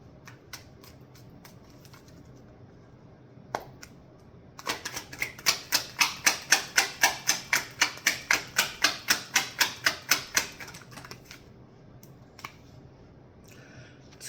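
Tarot cards are shuffled in a quick, even run of crisp riffling clicks lasting several seconds, close and quiet, with a few isolated taps before and after.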